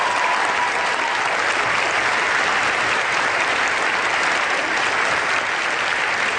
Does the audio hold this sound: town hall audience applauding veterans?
yes